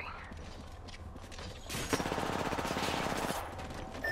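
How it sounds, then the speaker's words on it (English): Gunfire in the video game Apex Legends: a rapid burst of automatic shots lasting under two seconds, faint and low in the mix. "They're shooting at me."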